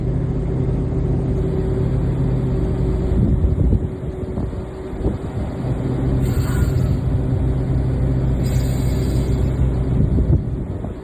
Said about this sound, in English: I'm going to raise my RPMs up